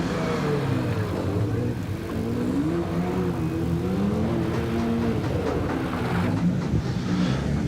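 2015 Porsche 911 Turbo 991.1 race car climbing a hillclimb course past the punch bowl, a steady loud engine drone with rising and falling revs as it accelerates, heard from nearby without break.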